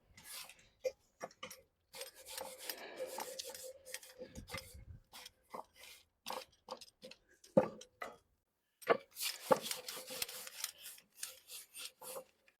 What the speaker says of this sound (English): we're just going to take most of that mold off